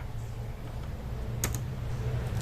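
Keys clatter on a computer keyboard as a command is typed on Fedora, with a steady low hum underneath and a sharper keystroke near the middle that fits pressing Enter.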